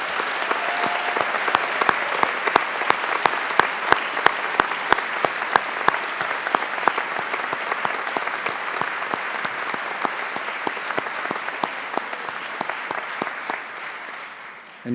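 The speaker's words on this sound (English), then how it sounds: "Graduates, would you please join me in a round of applause for all the Swinburne" A large graduation audience applauds the Swinburne staff with sustained, dense clapping and individual sharp claps standing out, fading slightly at the end.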